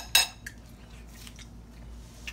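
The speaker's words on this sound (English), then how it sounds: "I'm cutting it with a fork and a knife," A knife and fork scrape and clink against a plate while cutting oxtail, one sharp clatter at the start followed by a few softer taps and faint scrapes in a quiet room.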